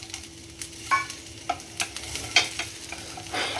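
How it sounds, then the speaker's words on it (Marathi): Raw tomatoes dropped into hot oil tempering for a seasonal chutney, with crackling sizzle and sharp stirring scrapes of a spoon against the pan, close and intermittent. "आता घालूया त्याच्यात कच्चे टोमॅटो."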